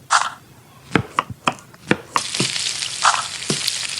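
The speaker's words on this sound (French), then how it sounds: "Donc là, je cuis les champignons, les oignons, pour faire du goût." Mushrooms and onions fry in a pan, a sizzle swelling from quiet to a loud, steady hiss, punctuated by sharp clicks and taps of a utensil against the pan.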